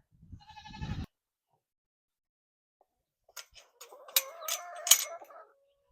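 Nigerian dwarf goat kids bleat briefly at the start, then chickens cluck and squawk in a busy burst after a short silence, fairly close and alone without talk.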